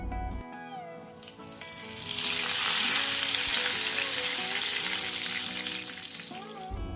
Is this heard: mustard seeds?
yes